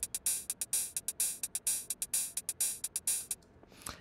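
A synthesized TR-808-style hi-hat built in Phase Plant plays a fast, steady pattern of bright, hissy hits with longer open-hat decays. The hits are loud and alone, and they stop near the end.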